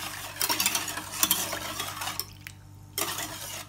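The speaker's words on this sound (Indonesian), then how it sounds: "Jangan lupa sesekali diaduk supaya santannya tidak pecah." Coconut milk is stirred in a pot, giving soft scraping and swishing strokes against the metal that come in uneven bursts, close and moderately quiet, with a brief pause before one last stir.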